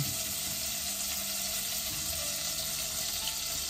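Butter melts with a splash of olive oil in a pan, giving a soft, steady, even sizzle that holds throughout, with a small clatter at the very end.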